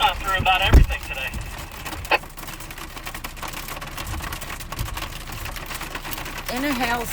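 Hail drums on a vehicle during a hailstorm at 8,700 feet in Wyoming's Bighorns, a dense, continuous patter of quick hits, with voices briefly heard inside.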